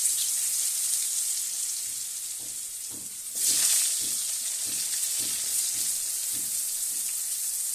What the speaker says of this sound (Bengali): এবার আমি গোটা আলুগুলো ভেজে নিচ্ছি।